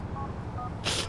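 A phone dialing a number in the video game GTA 4: a quick run of short tonal beeps over a low hum, ending in a brighter burst, close and clear with no speech.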